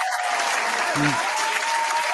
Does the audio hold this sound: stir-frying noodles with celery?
no